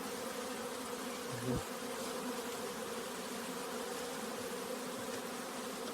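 Honey bees buzz steadily and densely all around, a continuous close hum from many insects with a brief thump partway through.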